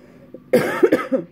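A single person coughs up close, a harsh burst followed by a couple of shorter throaty hacks, with a faint voice just before.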